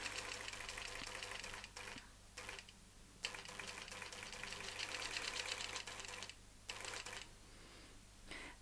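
A longarm quilting machine stitches across a quilt with a quiet, steady mechanical chatter and hum, running in long passes broken by a few brief pauses.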